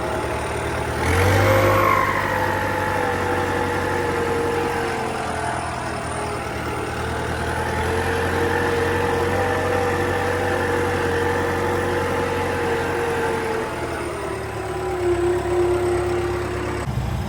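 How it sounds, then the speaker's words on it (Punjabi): A small tractor engine chugs steadily nearby, a continuous mid-pitched drone with a brief rev near the start, running on without pause. "ਛੋਟਾ ਟਰੈਕਟਰ ਆ ਬਾਈ"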